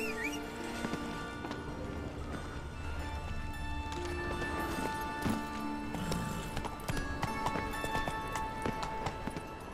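A horse galloping in the video game The Witcher 3, steady rhythmic clip-clop hoofbeats over game ambience with tonal background music and a brief snort, no clear talk.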